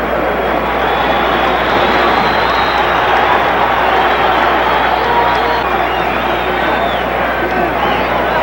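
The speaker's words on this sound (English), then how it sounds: "Crowd yelling." A boxing arena crowd at a heavyweight bout yells in a dense, continuous roar that holds steady at high volume for the whole stretch, with no clear breaks.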